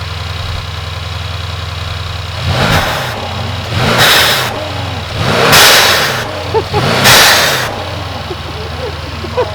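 A Mercedes C63s AMG V8 fitted with Weistec blow-off valves idles, then revs four times in a steady rhythm, each rev rising and falling with a whooshing valve release, loud and close.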